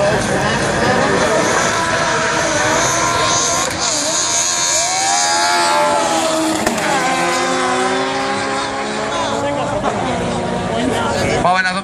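A twin-engine Renault 5, with one engine in front and one behind each driving its own axle, roars down a drag strip at full throttle, rising in pitch through the gears under a loud announcer's commentary.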